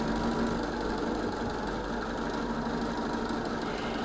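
A sewing machine slowly stitches a quilt block seam, a steady low mechanical hum and soft rhythmic whir running continuously, close and unaccompanied by talk.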